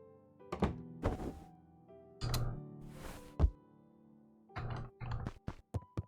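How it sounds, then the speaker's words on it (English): Front door in the video game Beacon Pines bumping shut, a series of short, dull wooden thunks spaced across a few seconds, fairly close and heard alone over a quiet game music drone. "He waited to hear the sound of the front door closing"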